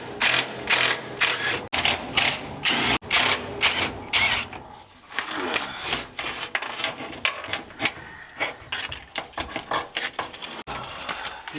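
A hand ratchet clicks rapidly and loudly up close while backing out 10mm self-tapping screws from a 1967 C10 truck, in bursts of fast pawl clicking separated by short pauses and small metallic clunks.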